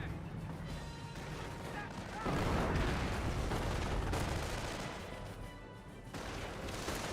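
Grenade blasts and rifle fire in a Company of Heroes battle, with a heavy burst of explosion noise partway through and steady crackling gunfire throughout, all under a commentator's ongoing voice.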